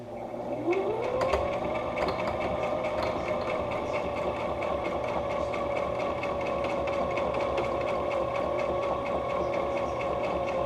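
A sewing machine stitches a homemade cloth face mask, starting up with a rising whine, then running in a steady, loud, continuous hum with rapid needle clatter throughout.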